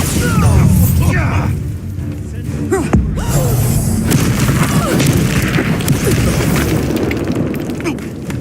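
A Bombarda blasting spell goes off in the Hogwarts Legacy video game with a loud booming burst, followed by sustained rumbling, crackling debris and game effects throughout.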